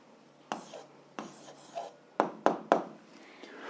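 Pen writing out an algebra answer by hand on paper, with short scratchy strokes and taps in irregular bursts, close and fairly quiet.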